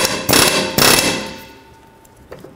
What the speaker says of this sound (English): I'm just going to use my air hammer and just give it a couple taps right here